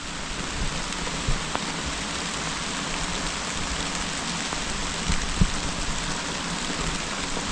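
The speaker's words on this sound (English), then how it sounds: "It's raining now." Steady rain falls on a mountaintop campsite in autumn, a dense continuous hiss with occasional louder drops hitting a surface nearby.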